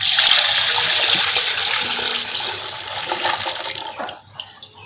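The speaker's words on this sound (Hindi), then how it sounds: "अब इसमें 2 किलो दूध डालेंगे।" Milk pours into a cooking pot set on the stove for sweet vermicelli, a loud continuous liquid rush that thins to trickles and drips, with no talking.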